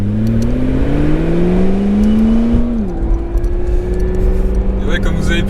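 Supercar engine pulling hard while driving, a loud close roar rising steadily in pitch, dipping briefly at a gear change, then climbing again, with an Aston Martin V12 Vantage following behind.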